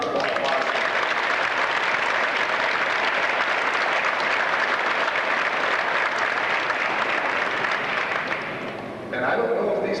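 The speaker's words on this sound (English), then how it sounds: "let's have a really big round of applause" Wrestling fans at a homecoming reception for the Paynesville Bulldogs 2000 Class A state wrestling team break into loud, sustained applause filling a crowded room, dipping briefly near the end before swelling again.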